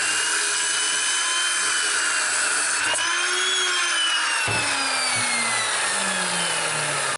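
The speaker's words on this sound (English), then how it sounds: "Angle grinder." An angle grinder cuts into metal in a scrap-built machine shop setting, a loud, continuous high-pitched whine with shifting tones as the cut bites and eases, heard alone and close up.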